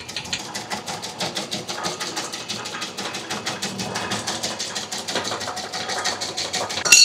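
A small 4-inch blade machine running on a half-horsepower motor from a household electric connection, giving a steady, fast, rhythmic mechanical clatter that is close and fairly loud throughout.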